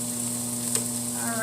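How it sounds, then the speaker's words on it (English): Cabbage with Asia seasoning sautés in a pan, a soft steady sizzle with a steady electrical hum underneath, one faint stir or tap near the middle. "I'm only going to saute this for a couple minutes"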